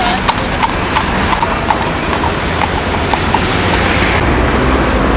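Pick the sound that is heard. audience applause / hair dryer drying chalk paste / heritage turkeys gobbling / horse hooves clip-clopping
horse hooves clip-clopping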